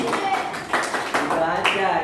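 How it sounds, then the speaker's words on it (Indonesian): A classroom of students claps for group D in a rhythmic group clap, steady sharp beats mixed with voices talking over it. "tepuk tangan untuk kelompok D"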